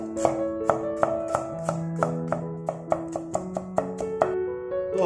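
A kitchen knife minces ginger and garlic on a board, a quick, regular series of sharp chops of even loudness over steady background music.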